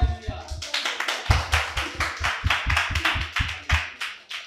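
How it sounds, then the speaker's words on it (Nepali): A church congregation claps together in a steady, even rhythm, loud and close, with sharp regular hand claps continuing throughout and no talking over them. "हालेलुया, ताली बजाइदिनुहोस्."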